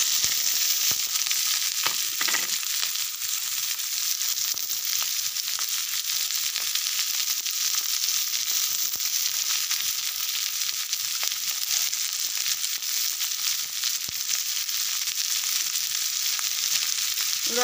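Onion, capsicum, carrot, green chilli and beans fry in a pan for Chinese-style egg fried rice, giving a steady, loud, even sizzle that runs throughout with a few faint clinks and no talking.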